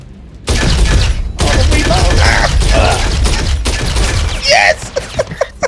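Rifle fire in the sci-fi shooter game Star Citizen: loud, sustained automatic bursts with brief gaps, then a few separate trailing shots.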